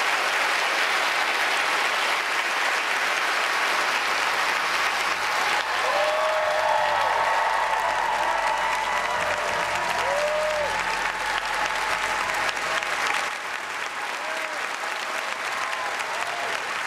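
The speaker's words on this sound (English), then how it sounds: "Applause for the former FBI Director James Comey." Sustained applause from a large town hall audience, steady and dense throughout, easing slightly toward the end.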